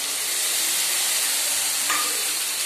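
A spice mix of ginger, onion, garlic, dried chilli and turmeric goes into frying onions and tomatoes in a pan, a loud continuous sizzle and hiss with a brief stir near the end.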